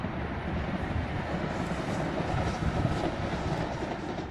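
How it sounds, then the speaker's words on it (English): A Northern Ireland Railways train rolls past as a continuous broad rumble with a faint rhythmic clatter. The sound holds a steady, fairly strong level throughout, and no voices are heard. "And here we have the train."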